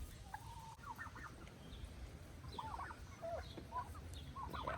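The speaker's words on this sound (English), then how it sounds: "over there we have Raoul, that's Raoul, and he is a Polish rooster." Polish rooster calls and short clucking bursts sound at moderate distance over a quiet, rustling background.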